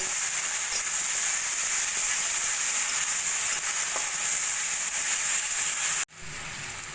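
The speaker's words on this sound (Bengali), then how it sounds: "মশলার পেস্ট করেছি সেই মশলাটা দিয়ে দেব দিয়ে এবার ভালো করে মশলাটা কষিয়ে নেব" A paste of tomato, green chilli and garam masala frying in a pan for jackfruit kalia gives a loud, even, close hiss of sizzling that runs unbroken, then cuts off abruptly near the end and resumes softer, no voices.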